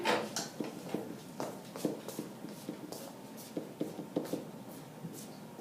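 A pen scratches and taps across paper in short irregular strokes, close and quiet, with brief pauses between marks as something is written out.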